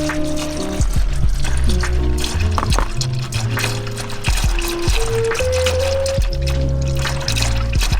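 Thin 0W-20 engine oil drains quickly from an A90 Supra into a pan, a continuous pouring, splattering gush, with music playing loudly over it throughout.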